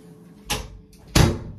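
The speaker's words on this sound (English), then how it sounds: "Let me close the door." An indoor door being closed in a home, two distinct thuds about half a second apart, the second louder and heavier, with no voices.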